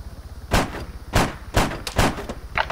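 Gunfire in the military shooter game Arma 3, a series of loud, sharp shots spaced about half a second to a second apart, with a couple of quicker bursts toward the end and no talking.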